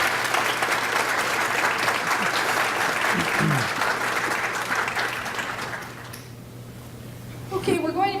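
Audience applause for candidates at a local meet-the-candidates evening: sustained clapping from a room full of people for about six seconds, then fading out as a voice starts talking near the end.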